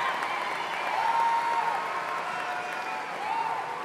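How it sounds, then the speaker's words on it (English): A commencement crowd applauds university staff in a large venue, a soft, distant wash of clapping that holds steady throughout with faint crowd noise beneath. "Please give them a round of applause."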